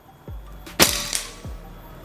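Shots from a Predator Escobar semi-automatic PCP air rifle, three sharp cracks spaced under a second apart, the middle one loudest, each with a short thud, in a quiet setting with no talk.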